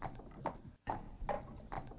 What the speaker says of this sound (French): il rentra à la maison sur son vieux cheval